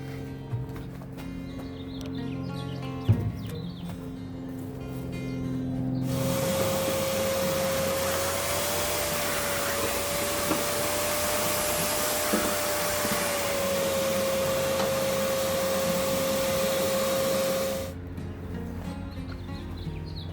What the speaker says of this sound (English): I'm gonna vacuum this up.